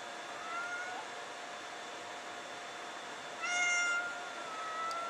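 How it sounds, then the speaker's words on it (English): A domestic cat meows indoors, a faint call near the start and a louder, clearer meow midway, followed by softer mewing toward the end over a steady background hum. "in case you're wondering who that sound is, that's actually my Misty, my cat"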